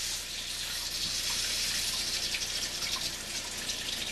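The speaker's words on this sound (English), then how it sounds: "I'm going to basically fill this with water" Steady rushing of water pouring into a container, set up for a siphon while home brewing beer, loud and close with a continuous hiss that holds level throughout, alone without talk.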